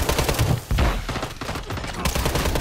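Gunfire in the video game Call of Duty comes as dense, rapid volleys of loud shots, like machine-gun fire, crackling almost without pause.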